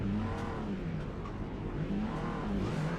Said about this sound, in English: People are revving.